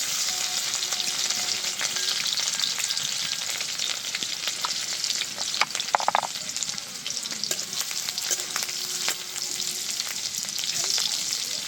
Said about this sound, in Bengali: তেল গরম হয়ে গেছে। এবার দিয়ে দিচ্ছি কুচিয়ে রাখা রসুন আর কাঁচা লঙ্কা।